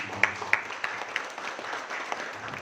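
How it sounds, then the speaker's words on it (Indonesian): Scattered applause from an audience at a network-building training session, a few louder claps standing out over a soft broadband patter, with faint background voices. "Aplaus buat."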